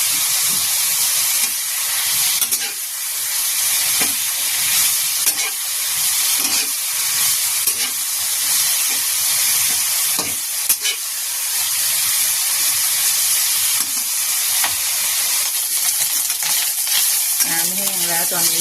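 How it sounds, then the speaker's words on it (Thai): Pork frying in its own rendering fat for a mild Thai curry, a dense steady sizzle and crackle with stirring scrapes throughout, loud and close with no talk. "มันก็กำลังเจียวตัวเอง น้ำมันก็ออกมาเจียวตัวเอง"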